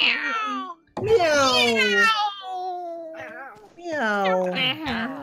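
Players' voices imitate cats in the hide-and-seek video game Witch It, with loud, drawn-out and rising meows, a brief pause, then a run of quicker playful meows close to the microphone.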